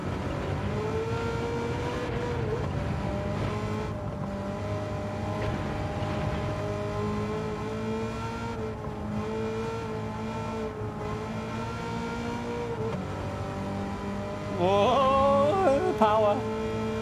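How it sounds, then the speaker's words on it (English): A GR.3 race car engine in Gran Turismo 7 at Watkins Glen revs loudly and continuously, its pitch climbing and falling through gear changes, with a sharper surge of revving near the end. "If I had a car in real life that sounded like this"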